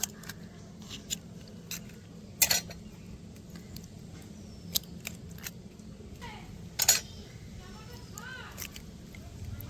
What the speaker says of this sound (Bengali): আমি এখানে তিনটে ডিম নিয়ে নিয়েছি ডিমটাকে ফাটিয়ে দেব